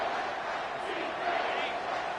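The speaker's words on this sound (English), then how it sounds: "This crowd is trying to inspire this defense to make a big red zone stop." A college football video game crowd roars in a dense, steady wash of stadium noise as the home fans urge their defense on near the goal line during a Florida State versus Michigan game.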